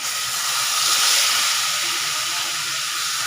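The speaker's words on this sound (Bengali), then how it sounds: "এবার এই আলুটা ভেজে নেব।" Cubed potatoes fry in a pan of oil spiced with cumin and bay leaf, giving a continuous, even hiss and sizzle close up, with no talking.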